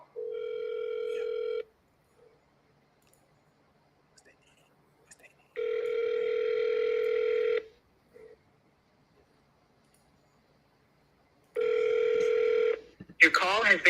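A phone line rings through before a call is forwarded to voicemail: three long, steady ringback tones with silent gaps between them, each one clear and moderately loud, followed by a brief burst of other sound at the end.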